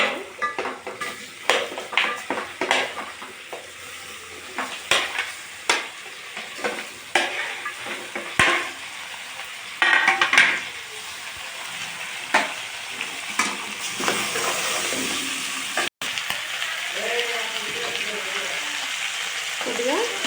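Onion and goat head curry cook in oil with turmeric, a soft sizzle running under frequent scraping and clinking of a spoon stirring against the pot, with faint talk in the background.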